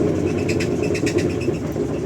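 A car engine with a knocking fault idles steadily up close on a road, its low, even rumble carrying faint repeating ticks and taps, with no talking over it.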